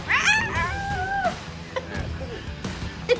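A house cat lets out a loud, wavering yowl as it attacks Chunk, a show dog, followed by scuffling thumps and knocks nearby.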